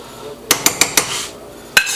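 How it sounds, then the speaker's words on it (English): A utensil clanks against the sides of a cooking pot while vegetables are stirred into red beans and rice, four quick metallic knocks followed by one more a moment later, close and loud with no talk. "all you do is you just kind of mix it in a little bit, get them veggies down in there"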